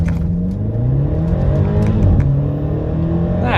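A BMW X5M launching in launch mode, its engine roaring loud and close as it accelerates hard with rising pitch, heard from inside the cabin with no talking.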